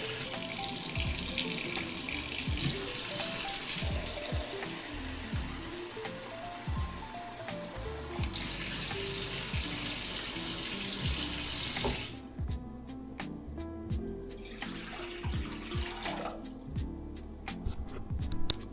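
Warm tap water runs from a kitchen faucet into a measuring cup for bread dough, a continuous close splashing rush that shifts pitch as the cup fills, then stops and resumes briefly.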